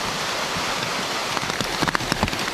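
Heavy rain falls during Typhoon Saola in Hong Kong, a loud continuous hiss with sharper drops and splashes spattering on surfaces nearby in the second half.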